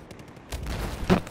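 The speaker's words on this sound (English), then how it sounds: "Fucking mortar." Mortar fire in a video game, a muffled booming burst with a rumbling low thud near the end of a short stretch of game noise.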